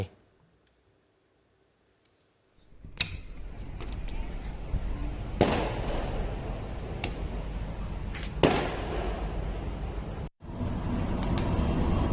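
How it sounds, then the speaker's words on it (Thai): Fireworks set off through the night at Jomtien Beach, heard as a sustained roar with several sharp bangs and crackling bursts spread across the clip, fairly loud, after a brief quiet start. "ได้รับความเดือดร้อน จากเสียงที่มีการเนี่ยจุดพลุ ทั้งคืนนะฮะ"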